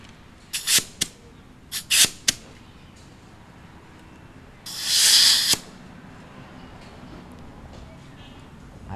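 Compressed air blown through a spray nozzle while cleaning fuel injectors: several short sharp hisses, then one longer loud blast of about a second, with quiet gaps between.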